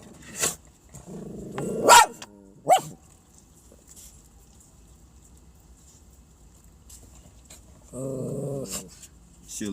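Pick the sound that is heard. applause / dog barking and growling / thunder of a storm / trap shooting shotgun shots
dog barking and growling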